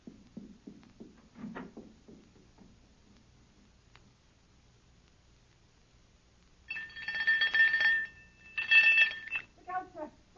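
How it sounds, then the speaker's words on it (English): A loud electric doorbell rings in a live radio theatre performance, with two sharp ringing bursts separated by a short pause, after some faint footsteps and knocking-like taps in a quiet room. "Ring the doorbell."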